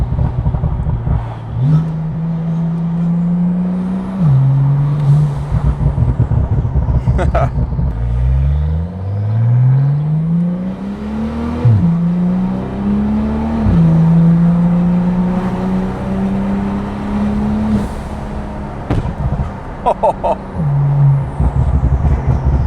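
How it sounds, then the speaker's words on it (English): An 850 HP Porsche 911 Turbo S with a Valvetronic Designs valved sport exhaust, driven in manual mode, revs loudly through several gear changes, with sharp crackling pops and bangs on lift-off, heard close for over twenty seconds. "The pops and bangs that you get from this car."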